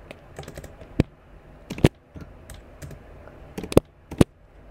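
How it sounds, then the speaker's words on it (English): Someone types Python code on a computer keyboard, with light, irregular key taps and a few sharper, louder strikes close by, without any talk. "So I'll type in my code for I in range."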